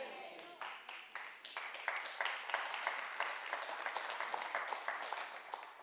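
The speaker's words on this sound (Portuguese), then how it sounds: "Esse aplauso foi para Jesus" A church congregation applauding, a dense wash of many hands clapping that builds and holds steadily for several seconds, fairly distant in a large room, with voices faintly mixed in.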